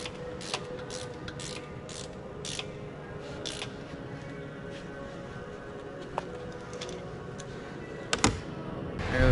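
A ratchet wrench turns bolts while installing a turbocharger and intercooler on a Cat 3406 engine, with rapid repeated clicking over a steady low background and a few sharper knocks, no talking.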